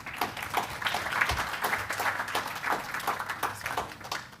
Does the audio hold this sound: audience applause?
yes